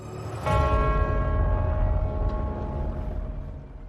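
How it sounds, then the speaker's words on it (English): A large church bell of St. Paul's Cathedral in London strikes once, then its deep ringing tone hums and slowly fades over a low rumbling background. "In London, the bells of St. Paul's rang out, signalling a national crisis."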